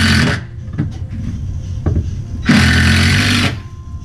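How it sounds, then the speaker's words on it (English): A power drill whirs in two short bursts, with a longer, steady run driving a screw into a wall stud to mount a pallet shelf near the end, close and loud. "go ahead and get your drill ready and try to put this screw right on"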